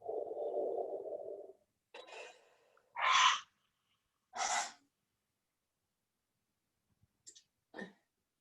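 A person breathes out during a guided breathing exercise: one long, soft exhale, followed by a few shorter, breathy breaths with quiet gaps between them, close and faint.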